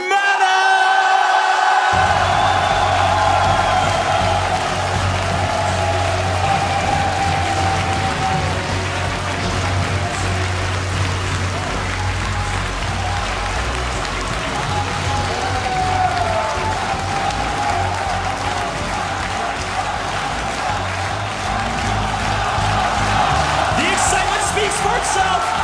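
A large home crowd in Poland roars and cheers for Team Liquid's Polish StarCraft 2 player MaNa at a WCS Premier League quarterfinal, with sustained applause, whoops and yells. A caster's voice stays audible underneath throughout.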